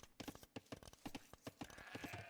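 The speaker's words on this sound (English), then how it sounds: "Still eating sheep." In Age of Empires, a faint sheep bleats among quick game clicks and clip-clop sounds from units, all low in volume with small bursts throughout.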